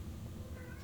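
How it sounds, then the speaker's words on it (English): A pet cat meows faintly in the background of a room, a brief muffled call under low steady hum. "That noise you hear in the background is one of my cats."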